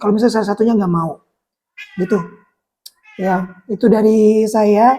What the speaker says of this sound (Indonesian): Mohon maaf untuk suara kucing saya yang dari tadi ribut ya.